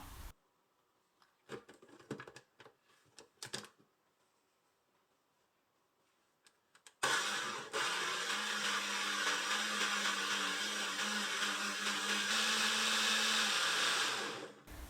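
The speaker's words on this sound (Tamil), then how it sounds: "இப்போது இது கூட ஒரு 1/4 கப் மட்டும் தண்ணி சேர்த்து நல்லா ஸ்மூத்தாக அரைச்சிக்கணும்" A blender grinds finely chopped apples with a quarter cup of water into a smooth purée. A few faint clicks and handling knocks come first, then a loud, steady, close motor whir runs unbroken for about eight seconds.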